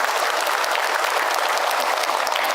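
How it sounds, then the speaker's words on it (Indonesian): Steady, dense applause from a gathered congregation after a religious talk, continuous and fairly loud throughout with no voices. "Tepuk tangan buat bunda yang berkah"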